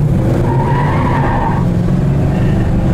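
A 1967 Sport Satellite with non-power brakes slows to a stop, tires scrubbing and engine droning loud and close for a few seconds.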